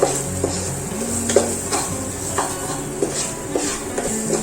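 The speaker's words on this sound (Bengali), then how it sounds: "ক্যাপসিকামটাকেও ভালো করে একটু ফ্রাই করে নেব।" Capsicum fries in a pan with a steady sizzle, while a utensil stirs and scrapes at regular intervals, close by.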